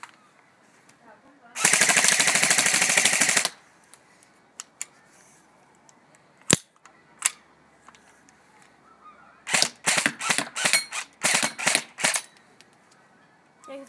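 A splat gun fires: first a sustained two-second buzzing burst, then a couple of isolated sharp pops, and finally a rapid cluster of loud, close snapping shots near the end, with quiet gaps between.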